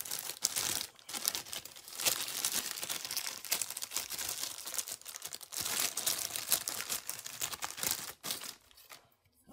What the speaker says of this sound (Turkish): Şöyle bir naylon poşette çıkıyordu.